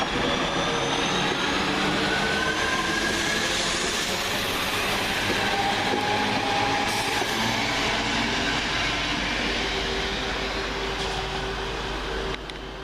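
A two-unit Class 175 diesel train with twin turbos, on a Shrewsbury to Birmingham New Street service, rounds a bend close by, giving a loud, steady rumble with a faint metallic squeal running through it.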